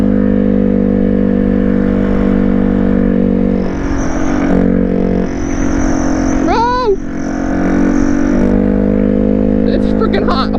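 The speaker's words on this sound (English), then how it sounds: "We got the turbo whistle. Maybe I can hold it in and we can ride with it." Honda CRF150R dirt bike fitted with a turbo exhaust whistle, its engine droning loudly throughout while a rising, sweeping whistle tone briefly cuts in near the middle over steady motor noise.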